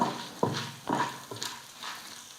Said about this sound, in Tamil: இது எல்லாம் நல்லா பொன்னுருவலாக வறுத்துக்கலாம்